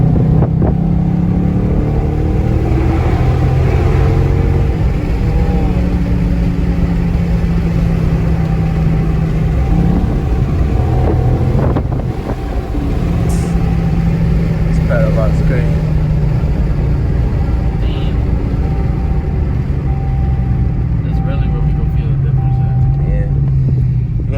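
A Dodge Charger fitted with a pedal box sits revving steadily, its engine drone carrying a whine throughout, with people talking over the continuous loud rumble.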